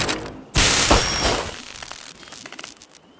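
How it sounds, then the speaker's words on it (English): A single gunshot in a video game: one loud, sudden blast with a broad crack that lingers about a second before decaying into quieter fluttering background noise. "I think a well-placed shot."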